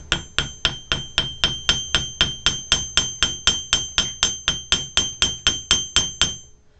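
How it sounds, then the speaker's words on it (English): A hammer taps the tip of a piece of wire on a metal bench block, about twenty evenly spaced ringing metallic strikes close up, each with a short bright decay. "put it on your bench block and hold it securely and start tapping just the tip"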